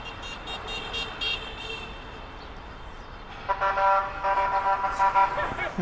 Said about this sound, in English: Kids were honking at the cops. So the cop honked back.